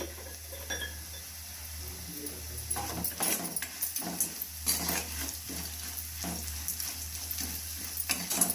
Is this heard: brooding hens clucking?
no